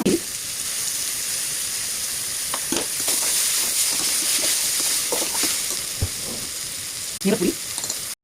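Chillies sizzle in hot oil for a ramadan ganji dish, a steady close frying hiss running throughout with brief stirring clatters, alongside a voice speaking.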